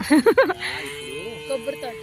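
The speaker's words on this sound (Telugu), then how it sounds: "ఆవులు అన్నీ ఉన్నాయి ఇక్కడ." A cow moos a few times in short, rising calls, fairly close, followed by a longer low moo, outdoors in a village coconut grove.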